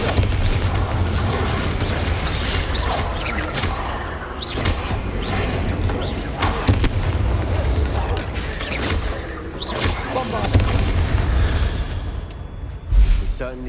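Confringo fire-blast spell explosions in the game Hogwarts Legacy, with repeated whooshing bursts and rumbling impacts over continuous combat noise and clattering debris.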